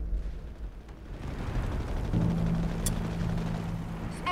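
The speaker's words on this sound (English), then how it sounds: "Fire smoke canisters to cover our advance." Smoke canisters are launched in the Company of Heroes 3 strategy game, set in a North African battle: a dull, rumbling burst over a steady low battlefield roar, with a faint hum and small crackles following.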